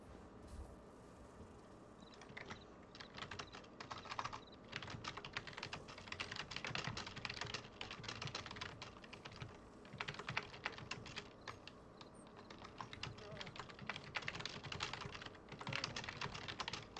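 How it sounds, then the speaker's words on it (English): Steady typing on a computer keyboard during a casual home stream, with rapid irregular key clicks running throughout at a close, moderate level and no talk. "I'm typing this to him as you're saying it, Bayushi"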